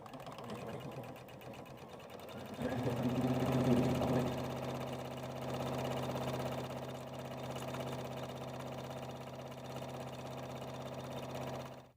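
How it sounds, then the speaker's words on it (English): A sewing machine stitching down the long edges of a fabric strap, a steady whirring hum with a rapid needle rhythm that starts after a quieter lead-in and runs continuously. "we are going to step to our machine and sew down both long edges for a nice finished look"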